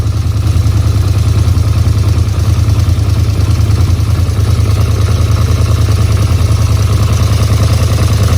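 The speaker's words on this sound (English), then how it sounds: "I think there is an exhaust leak though." A steady, loud 2010 Polaris Sportsman 850 XP ATV engine idle with a low rumble and a faint ticking, puffing rattle from an exhaust leak running throughout, no voices.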